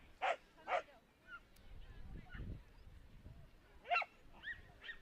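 Gracie, a four-year-old working cocker spaniel at an agility ring, gives two quick sharp barks, then after a pause a louder bark and a few short yips over a low background rumble.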